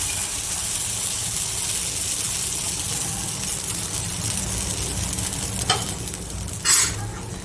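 Batter hitting hot oil for a Kathiyawadi evening snack, a steady close sizzle of frying throughout, with a brief scrape near the end and no voices.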